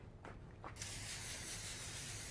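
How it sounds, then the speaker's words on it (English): Cooking spray aimed at a sheet of foil in a kitchen: two brief puffs, then a steady, close hiss that runs to the end without a break. "we're going to spray it with cooking spray, or like an olive oil spray works great too"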